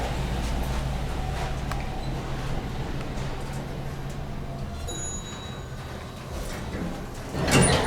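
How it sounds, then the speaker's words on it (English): A Dover traditional traction elevator in a bank lobby slides its doors open over a steady mechanical hum, with a brief bright chime tone near the end. "That is a beautiful chime."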